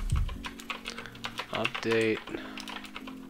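Quick, light keystrokes tap on a computer keyboard while C++ code is entered, with someone talking over the typing and the clicks continuing in short bursts.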